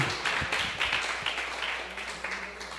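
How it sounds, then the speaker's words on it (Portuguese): A church congregation at a men's service claps together in dense, continuous applause that fades slightly toward the end. "Uma salva de palmas ao Senhor. Aplauda ao Senhor."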